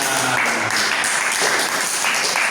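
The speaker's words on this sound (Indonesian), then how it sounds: "Oke, tepuk tangan." A class of students claps loudly and steadily throughout, a dense wash of applause with no pauses.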